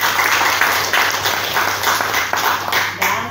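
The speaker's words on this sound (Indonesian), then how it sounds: "Tepuk tangan buat kita." An audience claps at an official inauguration ceremony, loud and sustained with a few sharper accents, the clapping carrying on evenly with no talk over it.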